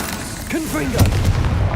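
Confringo explosive spell cast in the video game Hogwarts Legacy, a loud booming blast with a crackling, rumbling tail, heard close after a brief voice.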